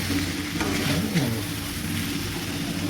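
Small fish curry with onion stalks stirred in a pan, a steady loud sizzle with scraping strokes of the spoon throughout and a low background hum.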